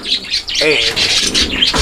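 Soft, low coos of King pigeons close by, mixed with light chirps and a rustle of wings.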